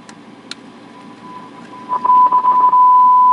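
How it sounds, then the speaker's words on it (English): A 100-watt Marshall amplifier under repair with no sound emits a faint steady test tone that grows louder and stutters near the end, with a few clicks and low background hum. "You can hear a little bit of tone coming out."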